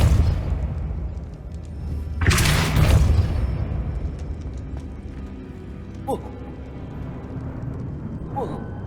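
A Depulso spell cast in Hogwarts Legacy lands as one loud, broad burst with a booming low rumble lasting about a second, followed by faint lighter pops.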